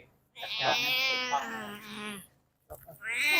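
A pregnant cat caught in barbed wire meows loudly during a rescue, giving a long drawn-out wail followed by a shorter cry after a brief pause.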